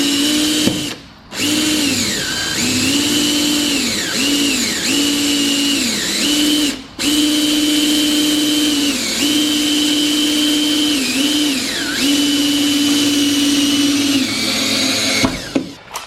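A power drill with a fresh bit whines steadily and close up for a long stretch, its pitch dipping as it bites, with two brief stops along the way.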